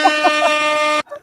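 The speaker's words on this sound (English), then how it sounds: "I don't think they'll mind the air horn down at the Lincoln School." A single loud, blaring air horn blast holds steady for about a second, then cuts off abruptly, leaving a brief faint tail.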